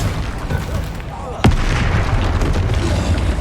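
The Confringo blasting spell in Hogwarts Legacy goes off as one sharp, loud blast partway through, cutting over a dense, steady roar of game sound.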